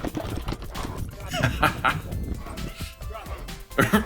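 A dog snuffles and chews noisily on a crashed drone close by, with scraping and clattering, while a person talks over it.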